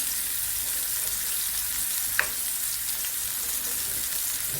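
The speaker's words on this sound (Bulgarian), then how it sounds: "Гъбките да запържа и тях." Mushrooms fry in a pan, giving a steady, close, even sizzle with no pauses and one brief sharp tick partway through, and no voices over it.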